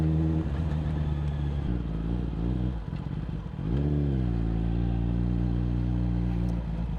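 A Kawasaki ZX10R sports motorcycle's exhaust drones close by while riding, its engine note rising and falling with throttle changes and a brief dip midway before climbing again.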